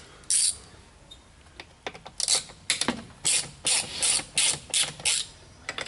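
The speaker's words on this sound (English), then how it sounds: "So we're going to go ahead and take this throttle body off, and I'm using T30 and an extension" A ratchet with a T30 bit on an extension clicks in short repeated bursts while loosening the throttle body bolts on a 2007 Mini Cooper S R56, close up with no talk.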